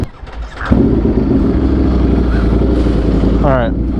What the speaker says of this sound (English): I always give a rev under these underpasses.